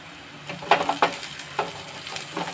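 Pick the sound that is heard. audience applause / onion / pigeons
onion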